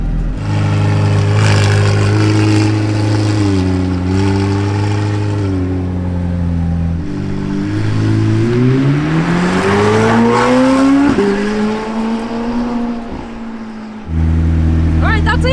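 A McLaren Senna GTR race car revs and accelerates hard on a track, its engine pitch climbing and dropping through repeated gear changes, loud and close.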